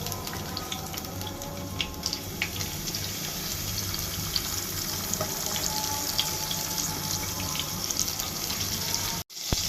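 Shrimp rubbed with salt and turmeric fry in oil in a frying pan on the stove, a steady, fairly loud sizzling hiss that runs almost unbroken, cutting out briefly near the end.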